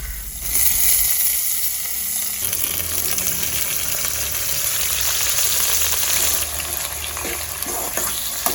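Onions, chillies and tomatoes sizzle and fry loudly in a pan for a hotel-style vegetable kurma, a steady close crackling hiss running throughout with no talk.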